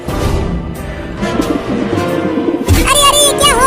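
A plump cartoon pigeon coos and warbles in a loud, close burst near the end, after a stretch of music and animated sound effects.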